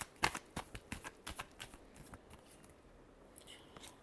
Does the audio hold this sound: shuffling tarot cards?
yes